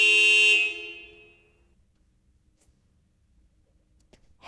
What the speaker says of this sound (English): Auto rickshaw.